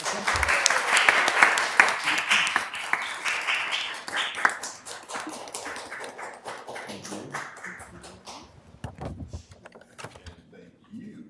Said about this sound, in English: Please join me in celebrating this important occasion with an applause, please.